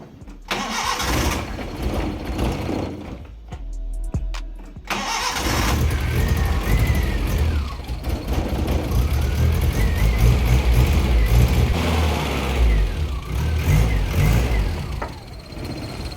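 A Nissan 1400 bakkie engine cranks briefly, catches and fires up, then settles into a loud, rough idle before revving as the little pickup pulls away, heard up close.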